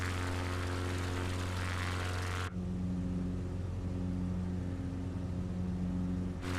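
Loud, steady drone of a light aircraft's engine and propeller in MS Flight Simulator on a Patagonia bush flight, running continuously, with a sharp change in tone partway through as the RPM is adjusted, then settling into a constant hum.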